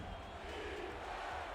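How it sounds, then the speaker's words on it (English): A video game football stadium crowd in San Francisco roaring and chanting defense during a Chicago game, a dense, steady wash of cheering noise with no breaks, moderately loud. "the crowd is starting to get loud and pumped here as they're screaming out defense"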